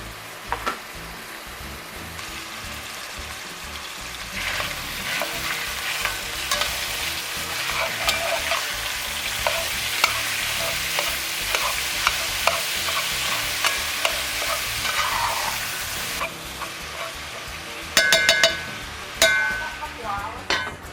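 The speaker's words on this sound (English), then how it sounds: "I'm going to go ahead and dump my pork and my beef in there, and we're going to cook that down" Pork and beef frying in hot oil, a continuous crackling sizzle with repeated stirring scrapes throughout, and a few sharper clinks of utensils toward the end.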